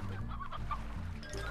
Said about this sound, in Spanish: Patos.